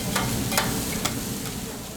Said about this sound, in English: the sizzling chicken smells good